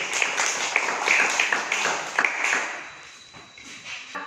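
Classroom students clapping for a group after its presentation, a scattered, uneven patter of hands with some sharper claps standing out, moderately close and fading slightly toward the end.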